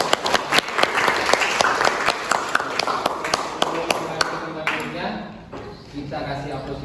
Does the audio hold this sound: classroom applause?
yes